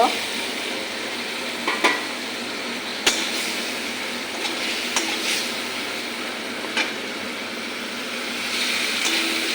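Fried coriander is stirred into a sizzling spice paste in a pan, with a continuous close sizzle broken by several sharp scrapes and clicks of the utensil and a faint voice in the background.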